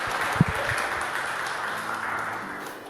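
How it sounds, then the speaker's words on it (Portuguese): A studio audience applauds a guest, Padre Simone, on a talk show: a steady, moderately faint wash of clapping that fades toward the end, with one sharp knock early on. "uma salva de palmas para o Padre Simone"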